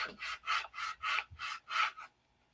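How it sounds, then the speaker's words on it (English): Sandpaper rubbed by hand across wooden parts of a 1/2A Cobra model, six steady, even back-and-forth strokes close by, then silence. "The Bob Ross of sanding is sanding again."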